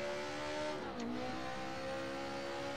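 A car engine in the racing game Assetto Corsa hums steadily, its pitch dipping briefly then climbing again as the revs rise during a clutchless H-pattern shift, loud and continuous with no voices.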